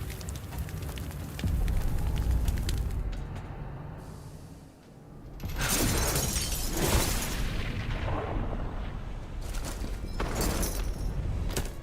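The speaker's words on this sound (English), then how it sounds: "Flashbang." Flashbang grenade in Duet Night Abyss detonates with a loud burst after a short lull, followed by a wide crackling, ringing wash of noise that fades slowly as the scene continues.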